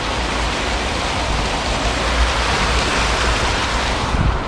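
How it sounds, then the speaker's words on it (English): A waterfall pours in a dense, steady rushing roar, loud and close, unbroken throughout with no voices. "first off, we're on a waterfall"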